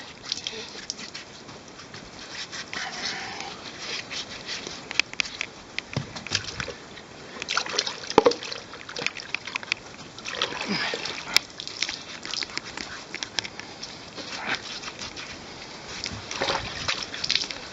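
Water from a bucket splashes and sloshes onto horse hooves repeatedly in irregular bursts, close by, with a continuous wet patter underneath.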